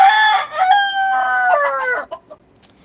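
A black country rooster, kept with native hens on a Chennai rooftop, lets out one loud, close crow lasting about two seconds, followed by a few short, softer clucks that fade into quiet.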